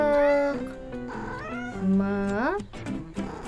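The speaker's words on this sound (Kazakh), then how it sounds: "Мысық," A cat meows several times in a row, close and clear, each call a drawn-out tone with rising and falling pitch, ending with shorter sounds.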